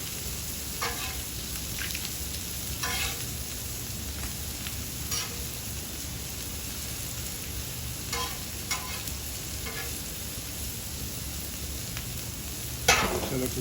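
Strips of bacon fry in a pan for a breakfast burrito, a steady close crackling sizzle with scattered sharper pops and spatters throughout.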